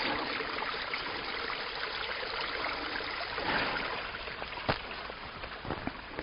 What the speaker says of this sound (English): I have another waterfall coming down from the right here.